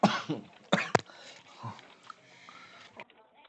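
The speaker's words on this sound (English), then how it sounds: "I still have a cough." A few sharp coughs up close, followed by quieter throat sounds and rustling.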